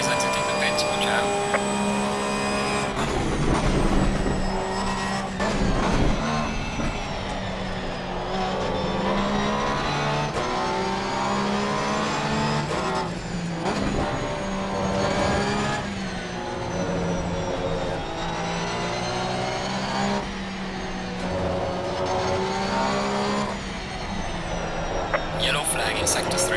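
Porsche race car in Assetto Corsa Competizione leaving the pits, its engine whining and revving up through gears, steady and close, with a voice talking over parts.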